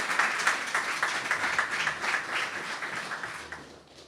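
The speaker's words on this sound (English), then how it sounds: "Give her a round of applause." Steady applause from a crowd at an anniversary symposium, dense clapping that holds for several seconds and then fades slightly toward the end.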